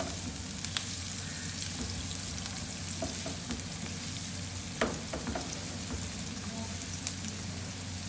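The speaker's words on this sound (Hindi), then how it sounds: "2 अदद मैंने दरमियाने साइज़ के प्याज चॉप किए हैं, ये मैं ऑयल में डाल लूँगी। और मैं इनको हल्का सा फ्राई करूँगी।" Chopped medium-sized onions frying in oil, a steady close hiss and sizzle with scattered pops and occasional light clicks of a utensil, without any talking.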